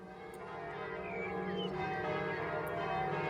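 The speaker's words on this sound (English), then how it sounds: "His music joined the chiming of the bells in the church around the corner." Church bells chime around a corner, a gentle sustained ringing with layered overtones that swells slightly and carries steadily at a moderate distance.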